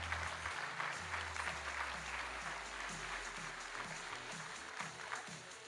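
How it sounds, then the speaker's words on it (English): Sustained audience applause fills the room at the 2024 Fashion Without Fabric runway show at UW-Stout, a dense, steady patter of many hands clapping together with a low hum underneath at the start, no voices over it. "can we get just a general round of applause for the artists"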